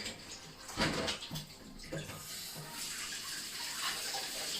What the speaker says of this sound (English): let me just rinse it a little bit so that we don't have too much of the hummus